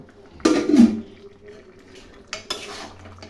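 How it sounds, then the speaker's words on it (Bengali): Boiled mutton pieces tipped into a pan of fried-down spice masala for mutton kosha: two clattering bursts of pan and spoon contact a couple of seconds apart, close and fairly loud, with quiet gaps between. "এখন আমি এর মধ্যে সিদ্ধ করে রাখা মাংসগুলো দিয়ে দেবো।"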